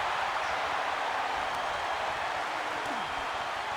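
Dense, steady roar of an arena crowd in the WWE 2K25 wrestling video game, a continuous broadband wash of cheering with no breaks, heard at even loudness throughout.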